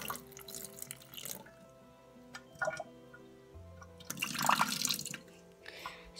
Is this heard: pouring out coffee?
yes